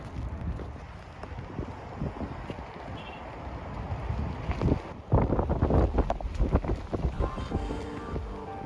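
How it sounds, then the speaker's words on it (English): Wind by the water on a rainy day in San Francisco, a continuous loud rumble of gusts buffeting the microphone that swells stronger partway through, with no talking. "That is the wind you guys hear."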